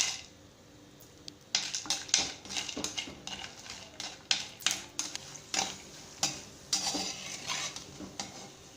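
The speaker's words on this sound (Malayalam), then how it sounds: "ഇനി നമ്മൾ എടുത്ത് വെച്ചിരുന്ന ഈ വറ്റലുണ്ടല്ലോ, ഇതിനകത്തേക്ക് ഇട്ടിട്ടൊന്ന് ചൂടാക്കി എടുത്ത് മാറ്റി വെക്കാം" Dried vegetable vattal is stirred in hot sesame oil in a pan, with soft sizzling under repeated metallic scrapes and clinks of a spoon against the vessel.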